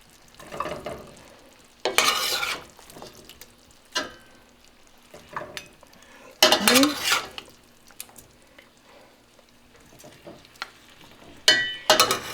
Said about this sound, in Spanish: y lo vamos a ir friendo